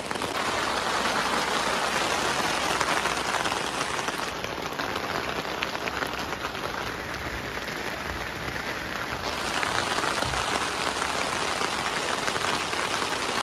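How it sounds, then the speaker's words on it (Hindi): Heavy rain pouring steadily outside near a covered area by a fire, a dense continuous hiss of drops on surfaces with no break, loud and close, no speech. "आपको आवाज़ तो आ रही होगी बारिश की पूरी"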